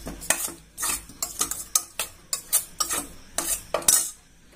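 Spoon stirring mustard powder, fenugreek and chilli powder into a gooseberry (amla) pickle mixture in a pan, a rhythmic series of close scraping strokes, roughly a dozen in a row.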